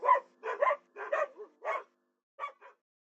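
Several uneven barks and yips from dogs, spaced irregularly over a few seconds, then a brief pause before two softer final barks, moderately close.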